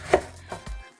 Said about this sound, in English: I'm going to start cutting my cabbage in chunks